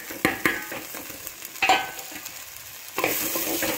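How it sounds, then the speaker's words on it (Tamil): Onion and boiled banana flower stem sautéing in a pan for a moong dal poriyal, soft sizzling under repeated spoon stirring and scraping strokes, close and fairly quiet. "இப்போது இந்த வெங்காயம் வதங்கணும்"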